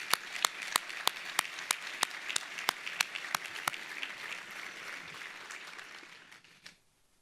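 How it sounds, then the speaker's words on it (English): Audience applause at a business achievement awards dinner, a dense, steady wash of many hands clapping with sharp individual claps standing out near the front, sustained for several seconds before tapering off and ending abruptly. "So let's give a round of applause to Nick as he starts his leadership in just a few weeks."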